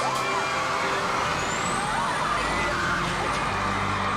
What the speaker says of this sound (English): Bus drivers, move those buses!